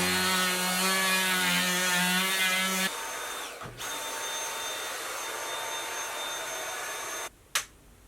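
A power sander runs steadily on a Scamp camper trailer, its close, loud whine shifting to a lower droning hum partway through before a sharp knock near the end.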